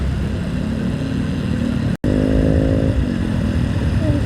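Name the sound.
scooter exhaust revving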